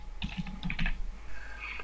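Quick bursts of typing on a computer keyboard while a page title is entered, several close, crisp key clicks in short clusters over a quiet background.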